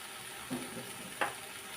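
Potatoes frying in spice masala in a pot: a faint, steady sizzle with a couple of brief clinks or stirring knocks breaking through the low hiss.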